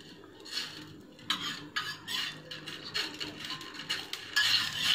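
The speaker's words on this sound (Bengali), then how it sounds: "ভালো করে চামচ দিয়ে আমি এটা নাড়াতে থাকছি যাতে এটা ভালোভাবে মিশে যায়।" Spoon stirring warm homemade amla (gooseberry) oil in a pan over a gas flame, with repeated scraping and clinking strokes of metal against the vessel, close and fairly loud, without any talking.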